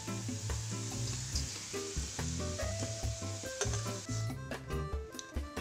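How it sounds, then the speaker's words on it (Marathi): Potatoes fry lightly in oil in a pan with a continuous close sizzle and occasional stirring clinks. A tonal musical layer runs underneath, and no one speaks. "आता हे बटाटे थोडेसे हलके तळून झालेले आहेत."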